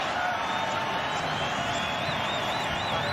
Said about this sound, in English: Crowd's getting pumped up